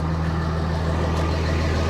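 A RAM 3500 Cummins diesel stick-shift pickup with its check-engine light on idles steadily and close by, a constant low rumbling drone with no talk over it.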